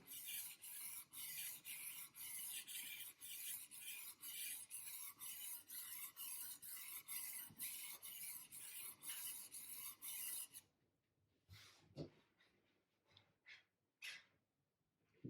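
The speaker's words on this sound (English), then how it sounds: "from bottom to the top of the whetstone, move and stabilize the angle while you are pushing up and down" A blade pushed up and down along a whetstone gives a long run of rhythmic rasping strokes, close and steady, then stops and leaves a few scattered knocks and handling sounds.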